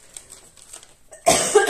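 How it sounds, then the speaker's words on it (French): A single harsh cough bursts out at close range near the end, loud and sudden after a stretch of quiet room tone. "Je tousse encore un peu."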